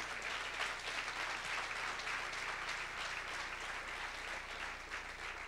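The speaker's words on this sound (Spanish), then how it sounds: "Dale un fuerte aplauso al Señor, que es hermoso." Church congregation applauding during a sermon, a steady dense wash of clapping that holds evenly from start to finish at moderate level with a faint low hum beneath.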